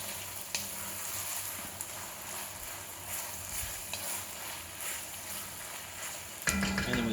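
Ingredients for a red coconut curry with chicken sizzle in a pan while being stirred and mixed, a steady close frying hiss with occasional scrapes and knocks.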